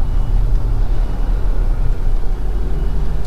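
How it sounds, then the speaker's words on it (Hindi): A 2021 Hyundai Creta driven in heavy mountain traffic on a rough road between Jammu and Srinagar, its cabin filled with a loud, steady low rumble and road noise, without talk. "गाड़ी का एक एक अंजर पंजर का साउंड सुनाई दे रहा है"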